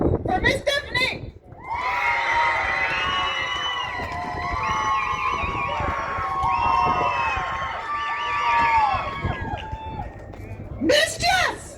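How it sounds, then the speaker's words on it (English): A rain-soaked crowd at an outdoor supercar show screams and cheers loudly and continuously for around ten seconds, bracketed by a brief announcer voice at the start and end. "Scream as loud as you can for Miss Stephanie."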